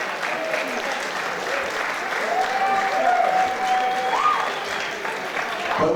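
Sustained applause from a boxing crowd fills the space for several seconds after a three-round bout, with a tone or whistle sliding and holding partway through.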